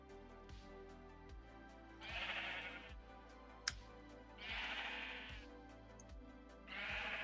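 Sheep in the Minecraft video game bleat three times in a drawn-out, wavering way at even intervals, under a faint steady game backdrop with regular soft low thumps and no talking.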